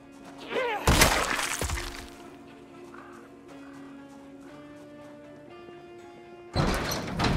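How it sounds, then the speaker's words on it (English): A door in the video game Project Zomboid makes two sharp, crashing bangs, one early and one near the end, over a quiet tonal hum. "most likely source of that sound is a door out here"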